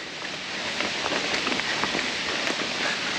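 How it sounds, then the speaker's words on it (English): Rain falls steadily during a mountain bike climb on a Santa Cruz Bronson, a dense, even hiss of drops with scattered brighter patters close by, and no talking. "It's raining."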